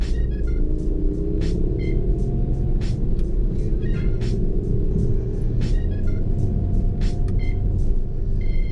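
Steady low rumble of a 2006 Peugeot 407 driving through sweeping bends, heard from inside, with repeated sharp ticking clicks recurring through the drive and no talking.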